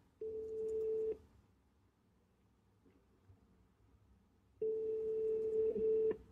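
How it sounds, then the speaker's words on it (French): Ringback tone on an outgoing telephone call, two steady, faint beeps about a second long separated by a long silent pause. "Ça sonne."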